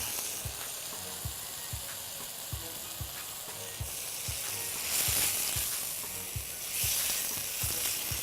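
Shallots hit a hot pan for chana bhaji and sizzle steadily, a continuous bright frying hiss with soft regular taps underneath and two louder surges of spitting partway through.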